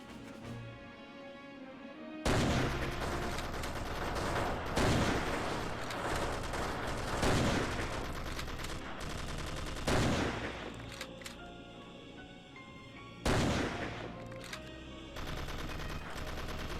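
Rapid bursts of automatic gunfire in the shooter game Commandos: Strike Force, several loud volleys separated by brief lulls, with sustained rattling firefights throughout and no talking.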